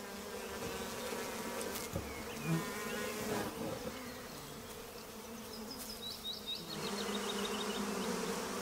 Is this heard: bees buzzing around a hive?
yes